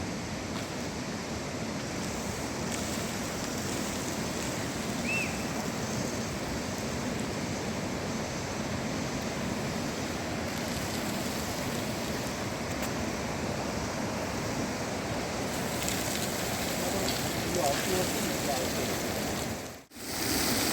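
A natural fountain at Barot, fed by no pump, sends water gushing upward in a constant loud rushing roar that stays even throughout, with a brief dip near the end.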